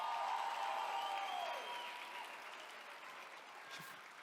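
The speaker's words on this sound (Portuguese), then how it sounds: "eu vou te dar a oportunidade de aplaudir a Jesus com mais intensidade" Church congregation applauds, a soft, distant wash of clapping blended with a sustained tone that fades over a few seconds, the sound gradually tapering off.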